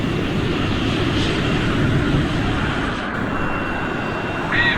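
Airliner engines rumbling loud and steady in the cabin before takeoff, a dense low roar that stays constant throughout.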